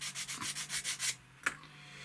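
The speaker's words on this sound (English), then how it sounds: "sanding stick" A sanding stick smooths the plastic wing of a 1/32 Hasegawa Fw 190 D-9 model in about eight quick, even rasping strokes, then falls silent before one sharp tap, close and with no talk.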